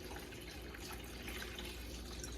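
Water is poured into the top of a Bunn coffee maker during cleaning, a steady close splashing and trickling stream of liquid that runs unbroken throughout.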